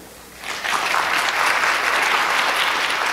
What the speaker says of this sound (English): give you a round of applause for our keynote speaker,